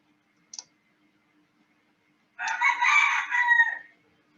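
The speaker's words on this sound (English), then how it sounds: "There's a rooster right outside, like literally right outside my window." A rooster crows right outside a window: one loud, close, drawn-out crow lasting about a second and a half, after a single sharp click and an otherwise quiet room.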